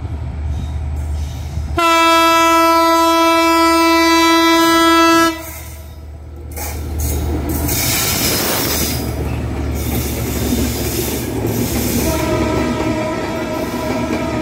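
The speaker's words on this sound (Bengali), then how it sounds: "আপনারা দেখতে পাচ্ছেন অনেক সুন্দর একটি ট্রেন।" The Bandhan Express, a Khulna–Kolkata passenger train with Indian LHB coaches, passes with a loud, sustained horn blast, followed by the roar and rumble of wheels and carriages rolling by, with squealing metal.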